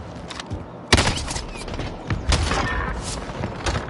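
Gunfire in Warzone, a Call of Duty battle royale: sharp shots and bursts scattered through a busy mix of game sounds, some close and loud, others more distant.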